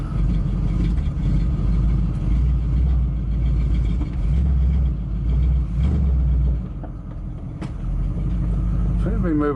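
A 1973 Dodge D100 pickup's engine rumbles loud and close as the truck drives slowly, a continuous low throaty roar that eases off near the end.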